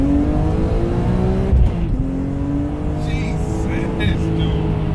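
A supercharged, E85-fuelled BMW E46 M3 making about 570 wheel horsepower roars steadily under hard acceleration, heard loud from inside the car. The engine note climbs through the gears with a brief shift break, and a voice speaks over it.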